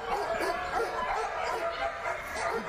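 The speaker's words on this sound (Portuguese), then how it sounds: "Solta os cachorros aí, tem cachorro." A dog barks in repeated short yelps and woofs throughout, fairly close and steady, with no talking.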